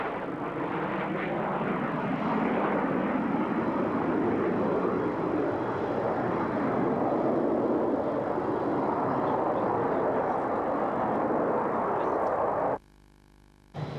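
A military jet takes off at the 1997 Mildenhall Air Fete air show, its broad, loud roar holding steady and close for about thirteen seconds before cutting off abruptly.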